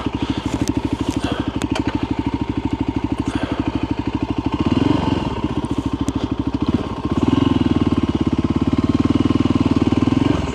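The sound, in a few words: motorcycle being parked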